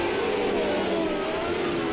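Historic open-wheel race car in Project Cars 2 braking hard for a chicane, a loud steady engine whine that dips in pitch as it slows.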